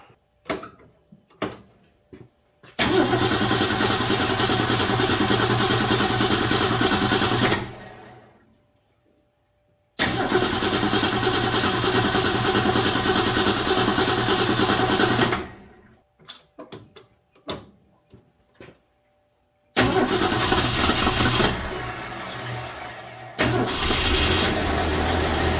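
A 1966 Ford Mustang inline six with an HEI distributor cranks and fires, running loud and steady in three long bursts, with clicks and short pauses between the runs.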